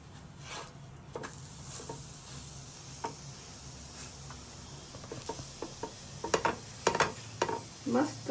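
A mooli paratha fries in oil on a hot griddle over medium-high flame, giving a steady low sizzle with soft scraping and tapping that grow busier and louder toward the end.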